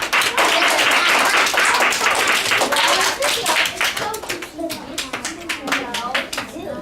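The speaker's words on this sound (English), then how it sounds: "Yeah, let's give this group a round of applause." A classroom audience applauds a student group with a burst of dense, close hand clapping that thins into scattered claps toward the end, with faint voices mixed in.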